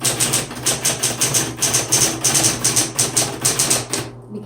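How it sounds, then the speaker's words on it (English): Steady rapid keystrokes clatter close up on a 1970s Smith Corona Coronet Auto 12 electric typewriter, each sharp strike riding over the machine's constant motor hum, ending with the motor alone. "Kids can easily use this typewriter."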